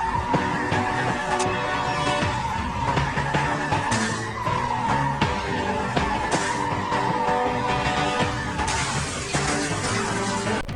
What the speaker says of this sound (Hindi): लेकिन आपको बता दें कि रास्ते में ही पाखी और विनायक की गाड़ी का एक्सीडेंट हो जाएगा।